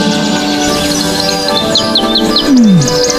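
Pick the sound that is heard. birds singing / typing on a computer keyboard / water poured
birds singing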